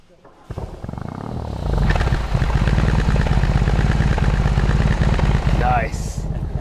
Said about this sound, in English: Start button starts the engine.